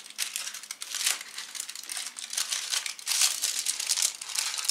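A Schogetten chocolate bar's foil wrapper crinkles and rustles continuously and close up, with steady crackling handling that swells and eases in irregular waves, with no speech.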